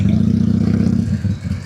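A motorbike engine on a group night ride, revving with a steady, close, rumbling low pulse for under two seconds, loud and alone without talk.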